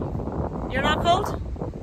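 Wind buffets the microphone outdoors with a low, rough rumble while someone talks briefly over it.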